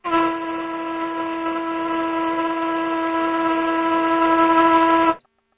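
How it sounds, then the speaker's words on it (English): A ship's whistle gives a single long, loud horn-like blast, steady for about five seconds on one harmonic-rich tone, then cuts off abruptly. "shall be provided with a whistle."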